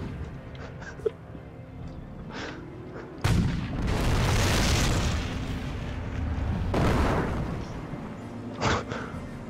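A sudden heavy howitzer boom erupts in Company of Heroes, followed by a long rumbling roar and a second blast, with a few sharp clicks and pops around it.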